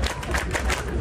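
A crowd cheers at a Cheeseball Man event while he runs around waving a flag: a dense, steady roar of many voices and scattered claps, loud and continuous throughout.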